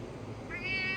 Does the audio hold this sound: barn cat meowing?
yes